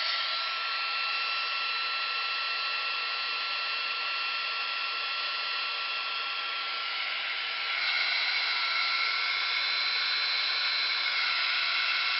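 A heat tool blows hot air over a handmade card, a steady, close, whirring fan hiss that holds for about twelve seconds and shifts slightly in pitch near the end.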